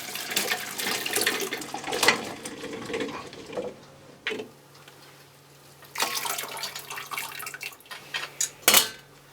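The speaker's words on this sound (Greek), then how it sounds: "Θα στραγγίσουμε τους γίγαντες και θα κρατήσουμε λίγο από το νερό που βράσανε." Boiled giant beans are drained in a kitchen, with some of the cooking water kept. Water pours and splashes in uneven bursts while pots clank against the sink, at a moderate level and close by.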